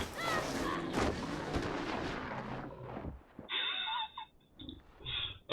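Rifle gunshots fired at a bear in a winter survival hunting video game, a heavy blast followed by ringing, lingering reverberation and a few sharper later sounds, with no talking.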